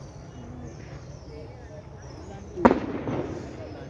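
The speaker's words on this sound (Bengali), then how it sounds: "এখানেই ওইটা বাজি ফাটছে, দেখতে পাচ্ছ?" A single Diwali firework bursts at a distance near a hilltop fort in Jodhpur, one sharp pop followed by a short rumbling echo over quiet evening ambience.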